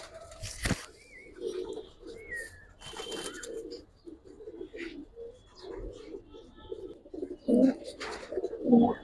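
Giribaz and colouring pigeons in a loft give repeated soft, close coos with a few chirps and wing flutters, alongside people talking nearby.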